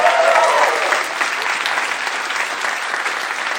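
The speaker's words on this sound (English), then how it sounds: "big round of applause for Mark" Live comedy podcast audience in London giving a big round of applause, a dense, sustained burst of clapping that starts loud with a brief cheer-like tone and then settles into steady crowd clapping.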